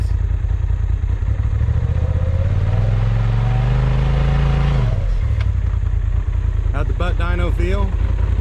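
Motorcycle with an aftermarket clutch kit climbing a hill, engine loud and close as it revs and rises steadily in pitch, then drops off; a person speaks briefly near the end.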